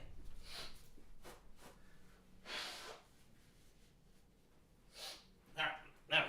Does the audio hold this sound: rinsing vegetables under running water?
no